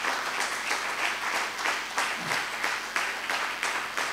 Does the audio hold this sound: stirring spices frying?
no